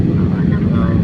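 A Cebu Pacific airliner descending to land at Dipolog gives a loud, steady cabin engine roar throughout, heard from inside the plane.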